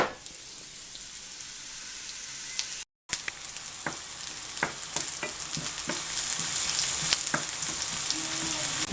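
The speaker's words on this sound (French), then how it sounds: "c'est le moment de faire revenir gentiment notre oignon qu'on ajoutera à notre préparation" Onion frying gently in olive oil in a pan gives a steady soft sizzle with scattered pops and light stirring scrapes, a short gap midway, then sizzling grows slightly louder toward the end.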